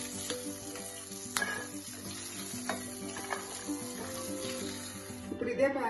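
Chopped tindora and other vegetables frying in a pan for a chutney, a continuous soft sizzle with occasional clinks and scrapes of stirring, close by under a background hum.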